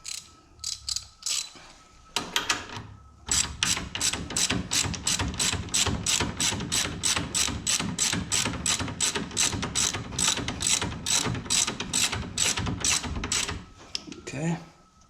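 Rapid, steady ratchet clicking runs for over ten seconds as a top nut is tightened on a Super ATV HD tie rod of a Polaris RZR XP 4 1000, with brief pauses at the start and end.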